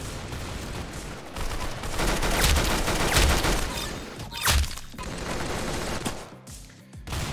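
Rapid gunfire in the Roblox shooter Arsenal, a loud dense fusillade of overlapping shots with short pauses, close and continuous throughout.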